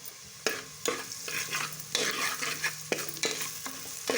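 Onions browning in oil in a pan for mutton curry sizzle close up while a spatula scrapes and stirs in regular strokes, each stroke bringing a burst of frying noise, with no talking.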